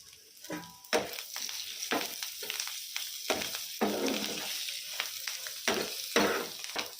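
Chicken fry sizzling in a pan as curry leaves and coriander go in, with a spoon stirring and scraping in irregular bursts over a constant crackling hiss, close and without voices.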